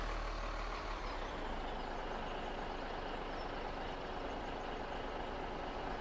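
A truck in Farming Simulator 17 drives with a steady, droning engine rumble, loud and continuous throughout, with no talking.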